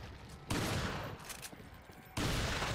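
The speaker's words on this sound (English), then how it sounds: "The game is making the shotgun really fun to use at the moment" Shotgun blasts in the video game Resident Evil 4, two loud, booming shots about a second and a half apart, each followed by a sustained, noisy rumble of game sound.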